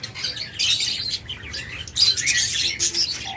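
Pet budgerigars and lovebirds at a bird shop chirp in dense, overlapping bursts, a busy near chatter that swells and fades across the whole stretch with no voices.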